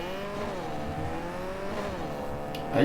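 A car in Cyberpunk 2077 revs and accelerates with a rising, wavering engine whine, then slides with a brief tire squeal at the end, loud and close with no talk over it.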